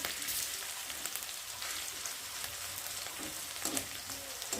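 Garlic sizzles and fries in a hot pan, a steady crackling hiss with small popping spatters, fairly quiet and heard alone.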